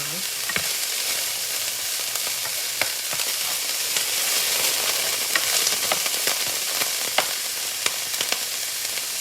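Beef and broccoli browning in a pan give off a steady, loud sizzle, with occasional pops and stirring scrapes throughout and no voices.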